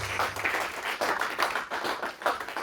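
Church congregation clapping and applauding in praise during a French-language sermon, a dense, continuous patter of many hands filling the room at a steady level.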